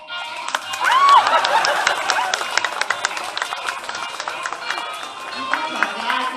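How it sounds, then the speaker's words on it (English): A show audience at an animal safari park claps for Luna as she says goodbye, with dense overlapping clapping, cheering voices and a high whistle-like call near the start, steady and fairly loud throughout. "Now everyone clap your hands for Luna because this is how she says goodbye."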